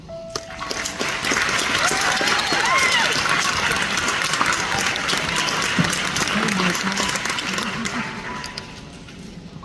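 Loud, sustained applause fills a hall as a graduation audience at Pima Medical Institute welcomes a keynote speaker, with cheering and crowd noise mixed in.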